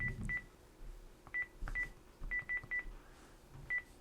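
A Panasonic KX-TG175C DECT 6.0 cordless phone sounds a series of short, clean keypad dialing beeps, about ten in irregular rhythm, close and moderately quiet with faint handling noise between them.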